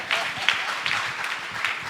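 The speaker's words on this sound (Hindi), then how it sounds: "एक बार जोरदार तालियां बजा दो" An audience at a Jain religious question-and-answer session with a muni at Gunayatan, Shikharji, claps briefly, an uneven scattering of hand claps under a soft murmur of voices.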